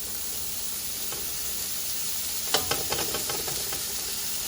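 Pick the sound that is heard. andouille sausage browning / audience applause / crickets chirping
andouille sausage browning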